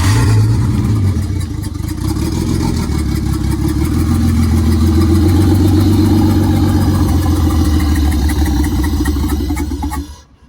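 Nissan Skyline engine, the car up on a jack, running loud and close with an uneven, struggling clattery note that holds steady for about ten seconds before cutting off abruptly.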